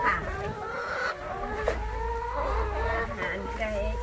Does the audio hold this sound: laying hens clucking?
yes